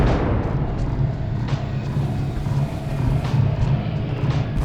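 The core blowing apart in a Half-Life 2 mod; a continuous, loud, deep rumbling roar with repeated booming surges layered through it, heard up close and alone.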